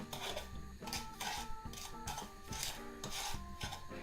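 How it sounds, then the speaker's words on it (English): Spatula scraping and stirring sugar in a pot, steady rhythmic rasping strokes with light metallic clinks, close and continuous, no talk. "Now I take the spatula and start mixing it up"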